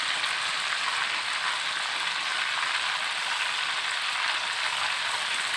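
Crab frying in hot oil in a pan for Padang sauce, a steady dense sizzle and crackle, loud and close, with no talk.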